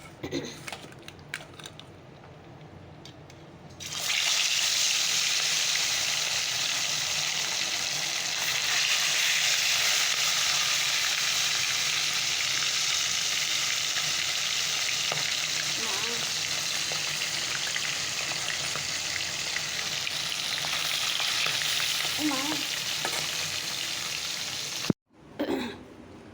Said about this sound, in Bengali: চলো মাছগুলোকে ভেজে নেই